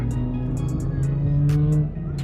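A Lexus IS300 drifting on a speedway track, its engine holding a steady droning note that swells and then eases off, with sharp squealing bursts scattered above, heard fairly close.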